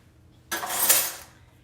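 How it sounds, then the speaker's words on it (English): A spatula scrapes and stirs ingredients in a bowl while shepherd's pie is being prepared, a single close, fairly loud scraping pass of about three-quarters of a second that tapers off, with no talk. "So you're just gonna mix this up really well."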